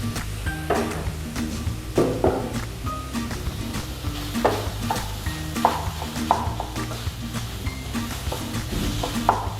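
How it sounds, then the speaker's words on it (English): Mashed potatoes, beetroot and carrot being mixed in a pan, with repeated scraping and clinking strokes of a utensil at an irregular rhythm over a steady low hum and faint sizzle. "Just mix everything together"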